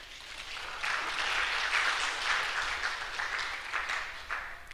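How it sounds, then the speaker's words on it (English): An audience at a higher-education summit on AI applauds a presenter, with clapping that swells after a moment and holds fairly steady at moderate volume, heard alone without talk. "Please let us applaud our presenter kindly."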